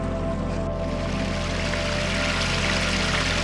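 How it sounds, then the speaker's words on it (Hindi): Flowing water streams steadily where an elephant drinks in Jim Corbett's Bijrani area, a continuous broad rushing wash with no break, fairly loud and close throughout. "यहाँ काफ़ी पानी बह रहा था और ये एलिफेंट इस बहते पानी से अपनी प्यास बुझा लेता है।"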